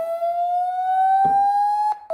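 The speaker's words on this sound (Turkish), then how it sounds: "Ses dalgası ve bununla da hoparlörün temizlediğini söylüyor Xiaomi." A loud, steady electronic speaker-cleaning tone from a Xiaomi phone speaker, slowly rising in pitch, with brief rattling buzzes as the handset vibrates.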